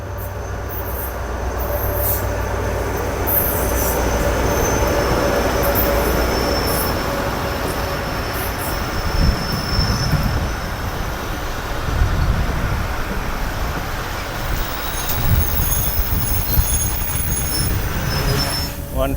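The Mehran Express train rolls slowly into Jungshahi station with a continuous loud rumble, rhythmic wheel clatter and high squealing wheels, heard close by.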